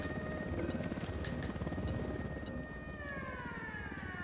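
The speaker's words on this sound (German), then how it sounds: "Ein Heli, los runter." A helicopter in the video game Ghost Recon Wildlands thrums with a steady, rapid rotor pulse under a continuous mechanical whine, fairly faint and constant, with a few light clicks and no talk.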